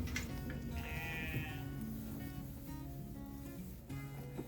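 Several sheep bleat repeatedly while being loaded up on a homestead, one close and loud, with steady outdoor rumble and shuffling beneath.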